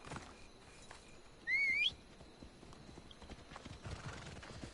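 Horse in a PS4 video game, a sharp rising-and-falling whinny cutting in briefly over soft, rhythmic hoof clip-clops and faint ambient game sounds.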